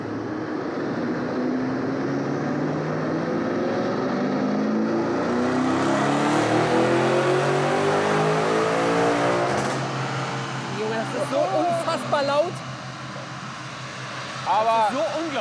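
A heavily tuned high-power SUV with a V8 engine on a dynamometer run, roaring loudly as it climbs steadily through the revs in one long pull before dropping off, followed by people talking close by.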